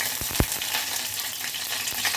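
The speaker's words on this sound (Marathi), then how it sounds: "तेलामध्ये आपल्याला कढीपत्ता घ्यायचा आहे." Curry leaves sizzle and crackle in hot oil in a kadhai, a loud steady fry with a few sharp pops near the start, no voices.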